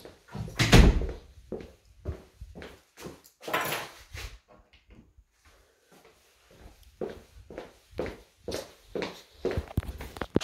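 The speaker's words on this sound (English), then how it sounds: "Come in, gonna lock the door, put the keys" A door in a house being moved into is shut and locked with keys: several hollow clunks and knocks, a metallic rattle and shuffling footsteps close by, in uneven bursts with short quiet gaps.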